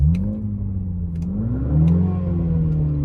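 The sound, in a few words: car exhaust revving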